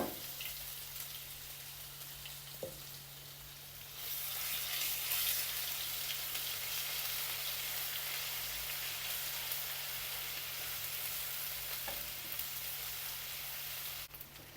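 Cloves, cardamom and ginger garlic paste fry in a pan for a capsicum and onion curry, giving a steady soft sizzle that grows a little louder partway through and carries on alone, with faint clinks.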